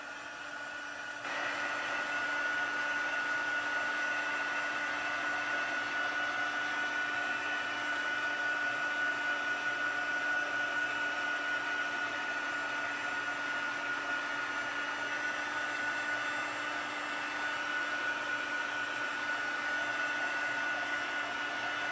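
Heat tool blowing a steady, even whoosh with a faint high whine, drying pigment sprinkles on paper. It starts after a brief quiet moment and runs continuously close by without talking.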